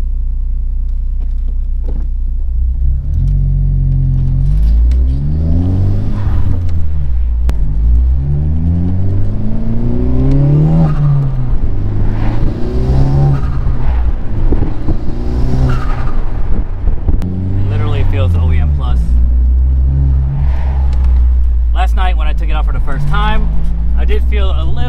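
Honda Civic Type R FK8 fitted with a SPOON engine and transmission mount set, engine running on the road: a low rumble rising and falling through accelerations, heard from inside the car under a man's near-constant talking.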